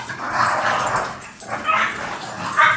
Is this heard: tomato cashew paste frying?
no